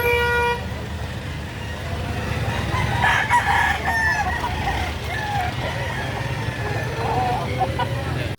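Roosters and other chickens are for sale at a market in Lipa City, Batangas. Several birds crow and cluck at moderate distance over a busy background of crowd murmur and passing traffic, with toots and faint voices.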